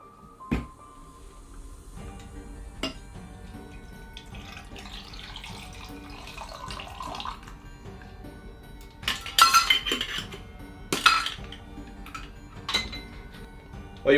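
A chilled gin cocktail is strained from a shaker into a glass of ice, a steady soft pour of liquid with scattered clinks of ice and metal, busier clinking toward the end, no talk.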